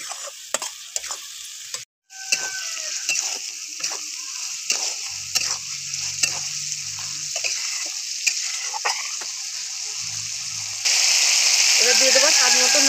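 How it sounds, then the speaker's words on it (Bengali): Spice paste fries in hot oil for a rohu fish and cauliflower curry, a steady close sizzle broken by scraping stirs and clinks of a spoon, with the hiss swelling louder near the end. "এবারে একটু ভালো করে আমি ভেজে নেবো, যতক্ষণ না তেল ছাড়ছে ততক্ষণ আমি এটা ভেজে নেবো।"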